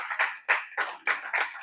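Church congregation clapping in a quick steady rhythm, five or six bursts of massed handclaps in under two seconds, close and fairly loud with no talk.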